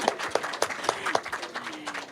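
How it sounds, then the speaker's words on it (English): A small audience at a Kauai spiritual center gives a brief round of applause for musician Maria Christina, a few distinct claps in a loose rhythm that quickly thins out. "let's do a round of applause for Maria Christina and all her music."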